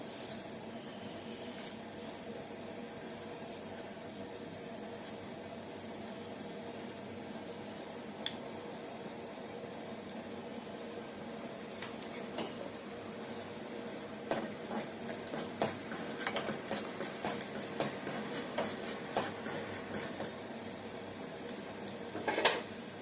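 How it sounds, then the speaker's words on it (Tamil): Mustard seeds and urad dal crackle while tempering in hot oil for mor kuzhambu: a low sizzling bed with scattered sharp pops that grow thicker and more frequent toward the end, quiet overall. "எண்ணெய் ஊற்றிட்டு நம்ம ஒவ்வொன்றா போட்டு தாளிச்சிடலாம் முதல்ல கடுகு உளுந்த பருப்பு போடலாம்"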